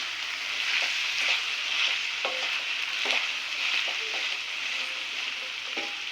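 Green chillies frying in a pan for a tangy lemon chutney: a steady, close hiss of oil sizzle runs throughout, broken by scattered clicks and scrapes of stirring, with no voices.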